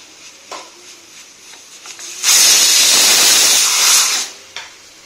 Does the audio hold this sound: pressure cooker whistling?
yes